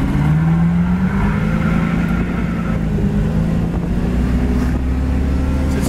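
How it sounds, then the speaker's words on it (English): A 1970 Ford Mustang convertible accelerating, its engine note climbing in a steady, rising drone that stays loud and close throughout, with broadband road and wind noise beneath it. "Sits here and gets right up to speed"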